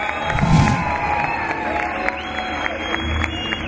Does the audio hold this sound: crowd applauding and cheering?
yes